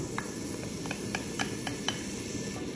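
Chopped onion hitting olive oil in a hot pan, a steady soft sizzle and hiss with scattered light scraping taps of stirring, close and alone.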